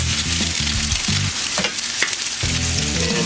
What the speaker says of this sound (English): That's going to be some fried egg. So oil on our board